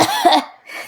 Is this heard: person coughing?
yes